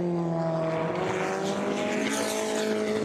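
Race cars roar past during a free practice session of the 2020 24 Hours of Le Mans, including the Hub Auto Racing Ferrari. Loud, steady engine drone with rising harmonic whine fills the whole stretch, and no voices are heard.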